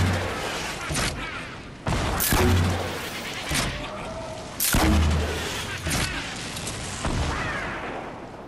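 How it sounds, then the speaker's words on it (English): Rocket launcher blasts in Fortnite, a series of loud booming explosions landing every second or so, each a sharp hit with a rumbling tail, against a busy game background. "I'm about to rocket launcher these fuckers."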